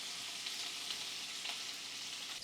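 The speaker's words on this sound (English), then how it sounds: "I'm gonna fry up some bacon now" Bacon fries in a pan with a steady, bright crackling sizzle that holds evenly throughout, close and moderately quiet, with no voices.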